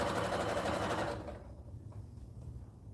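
A sewing machine top-stitches fur fabric for an Etsy order, running fast and loud for about a second, then stopping, leaving faint handling and low room noise.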